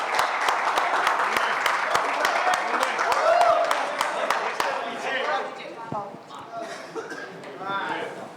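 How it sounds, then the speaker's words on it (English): Audience applause at a Citadel: Honey Bunny trailer launch event, dense clapping from a crowd that fades into scattered claps and chatter as a voice speaks. "We can quadruple the round of applause."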